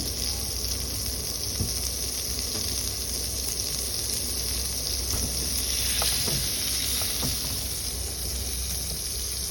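Butter sizzling steadily in a hot pan, a continuous bright hiss with a few soft pops and scraping touches, close and loud with no talking.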